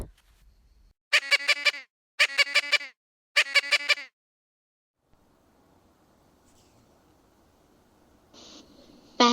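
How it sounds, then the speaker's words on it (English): A parrot gives three loud, harsh, evenly spaced squawking calls, each about a second long, followed by a quiet stretch and a brief fainter call at the end, with no speech. "Parrot."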